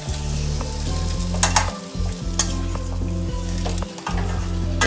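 Goat head curry masala sautés in a pan, producing a continuous close sizzle with intermittent stirring scrapes and a couple of brief dips as the spoon moves through.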